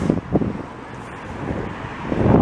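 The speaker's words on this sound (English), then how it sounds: "it's always windy in this corner here" Wind gusts across a street corner on Rue St Laurent in Montreal, buffeting the microphone with loud low rumbling surges and distant traffic underneath, with no voices.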